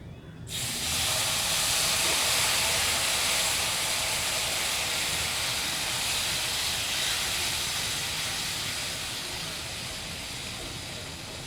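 Sugar syrup poured into hot roasted semolina in a pan erupts into a loud, steady sizzling hiss that starts abruptly and holds for several seconds, easing slightly as it settles.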